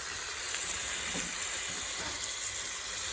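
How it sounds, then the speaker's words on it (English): Frozen black-eyed peas sizzle in a hot pan, a dense, steady hiss running close and unbroken throughout. "Now we're ready for the frozen black-eyed peas. Throw those right in there. Just like that, like you're sauteing almost."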